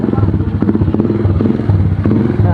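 A motorcycle engine running close by with a steady pulsing drone and clatter, loud throughout while someone speaks briefly over it.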